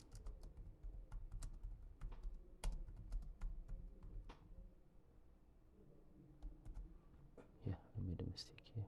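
Quiet typing on a computer keyboard, soft scattered key clicks at low level beneath a person talking throughout.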